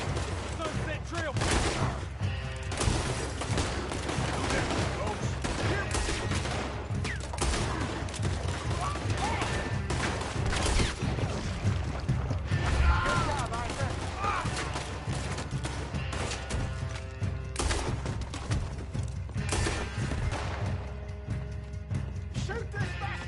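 Rapid gunfire from a Wild West shootout in Red Dead Redemption 2, dense overlapping shots and booms running the whole way beneath a busy game soundtrack, with voices shouting over the fight.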